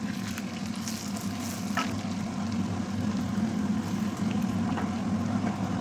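Butter and dried mint leaves fry briefly in a pan for Turkish yogurt soup, giving a steady, close sizzle with faint crackles throughout and no talking.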